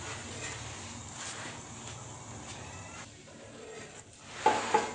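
An aloo paratha cooks on a hot tawa griddle with a soft, steady sizzle close by, ending in a couple of brief scraping knocks.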